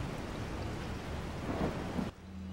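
A thunderstorm in the game Resident Evil 4 gives a steady, broad rumble of thunder with rain, loud and constant for about two seconds, then cuts to a quieter low hum.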